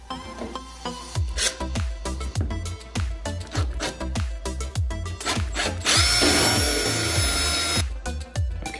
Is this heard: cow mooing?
no